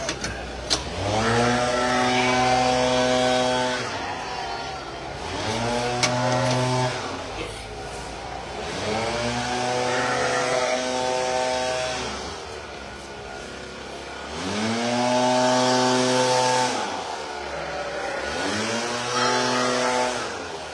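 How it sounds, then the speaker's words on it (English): A leaf blower motor drones loudly and steadily, repeatedly revving up and easing off in long surging waves, close by. "sorry about the leaf blower"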